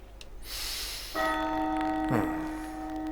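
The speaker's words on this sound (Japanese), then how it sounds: "城の方から大きな鐘の音が聞こえた。" A large castle bell in Lost Odyssey tolls once with a loud, ringing strike that hangs in a long sustained hum, following a brief whooshing sound.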